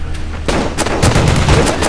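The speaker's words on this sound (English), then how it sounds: "in this shot, you have lots of different guns firing" Several different guns fire in quick succession as dense, overlapping loud shots, with booming reports and sharp cracks stacked into a continuous volley of sound effects.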